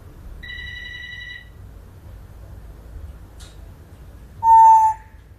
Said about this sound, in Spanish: Vamos a hacer sonar el teléfono de casa.